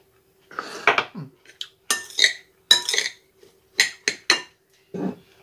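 Cauliflower tabbouleh with freshly ground pepper being mixed in a bowl: a run of separate clinks and scrapes of utensils against the bowl, close and fairly loud, with short pauses between strokes and no talk.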